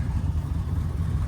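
An old Dodge Utiline truck engine idles with a slight misfire, a steady low rumble that carries on throughout without any talk.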